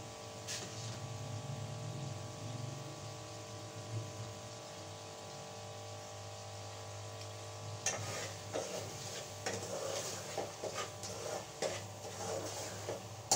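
Peas are stirred and roasted in a pan, giving quiet tapping and scraping clicks from the spoon against the metal over a faint sizzle. The strokes grow busier and more irregular in the second half.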